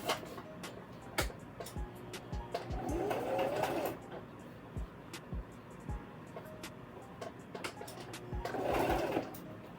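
A home sewing machine back-stitches fabric for a skirt, giving quiet rapid ticking and whirring in short bursts, with faint voices and soft handling noises in between.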